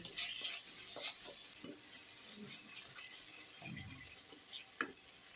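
Masala spices frying in a pan over a lowered gas flame, a faint steady sizzle broken by soft scraping stirs and occasional small pops.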